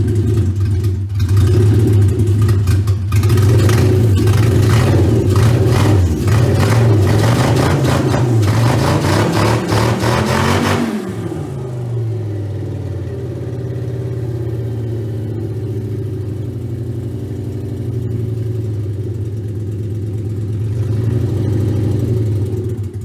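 A Porsche engine, newly swapped in and recently suffering a misfire, revs loudly and hard for about ten seconds, then drops back to a steady idle that swells slightly again near the end.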